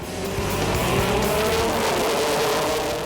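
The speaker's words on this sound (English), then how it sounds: "The Formula LGB4 cars were the first to head out onto the tarmac in round 2." Formula LGB4 race cars on a tarmac circuit at Coimbatore during round 2 of the JK Tyre Racing Championship, engines screaming at high revs with gear changes and a rising whine, loud and close, no voices.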